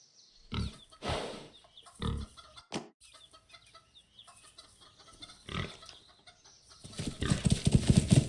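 Pigs grunting and oinking in short separate bursts, with farm fowl clucking faintly in between, building into a louder, denser chorus of pig noises at the end.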